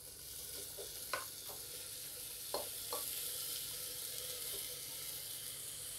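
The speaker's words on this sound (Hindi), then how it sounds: "अभी हम इसमें ऐड करेंगे जो हमने काट के रखा हुआ ये लौकी।" Chopped bottle gourd (lauki) drops into masala frying in a pan and is stirred, giving a steady close sizzle with a few sharp clinks and scrapes of a spoon against the pan.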